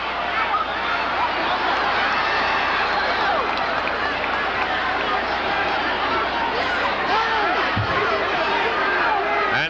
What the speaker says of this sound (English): And the crowd very unhappy about it.